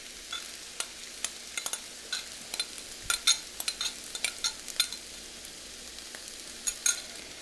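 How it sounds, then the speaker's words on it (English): A spoon stirs stuffed pepper filling of rice and canned tomato sauce in a hot pan, giving soft irregular scraping clacks over a faint sizzle, close and fairly quiet with no talking. "I'm just going to mix and stir this for a couple of minutes to blend the flavors"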